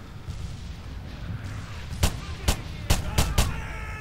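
Pistol gunfire in the World War II shooter Red Orchestra 2: five sharp, loud shots fired in an uneven sequence over a steady background of battle ambience.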